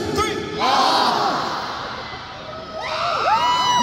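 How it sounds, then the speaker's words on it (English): A large arena concert crowd screams a single word on cue, a loud sustained roar of many voices with high shrieks rising over it, fading midway and then swelling again. "on the count of three, I want you guys to scream the word off."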